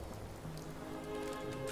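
Steady rain patters continuously in Fallout 4, a soft hiss of drops falling on surfaces with no voices.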